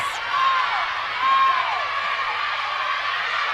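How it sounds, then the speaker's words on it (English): A crowd at an Australian Netball League grand final roars continuously, the cheering swelling in two surges while whistle tones and excited voices ride on top. "The crowd on the edge of their seats, and you can hear they're making more and more noise"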